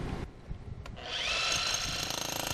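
Hammer drill from a hardware store cutting a shallow channel drain into a concrete or asphalt patio: a short scraping start, then the drill spins up into a loud, steady high whine with a rapid pulsing hammer rattle.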